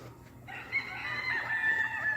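Chickens that get no laying feed cluck close by, followed by a rooster's drawn-out crow, with no talking.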